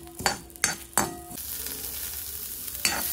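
Garlic and dry coconut fry with cumin and dried chillies in hot oil, a steady close sizzle broken by a few sharp metal ladle scrapes and stirs against the pan.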